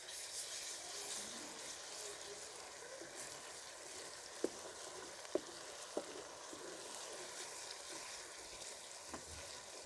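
Garlic ginger paste fries in a pan, a soft continuous sizzle with a few sharp clicks of a spoon against the pan.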